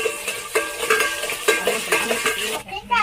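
Spices sautéing in a little oil in a pan, heard as a quick run of loud, close metallic clanks and scrapes from a spatula against the pan, with only a faint sizzle underneath.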